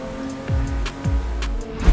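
A drifting car on a curvy track in the racing game Assetto Corsa: a steady engine drone with repeated deep swooping revs and tire noise, each slide rising and falling every half second or so.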